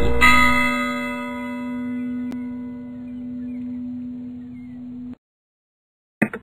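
A single church bell tolling for the dead strikes once and its deep toll rings on, slowly fading for several seconds before cutting off. A brief clatter follows.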